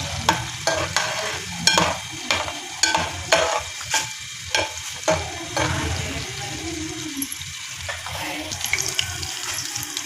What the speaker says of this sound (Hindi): और ये लाल मिर्चें मैंने धोकर रखी थी। हम इसे फ्राई कर लेंगे। थोड़ी सी राई डालेंगे हम इसमें।